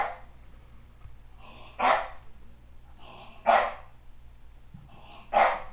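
A single dog barks three times at a slow, even pace, each bark sharp and fairly close, with low background hum in between.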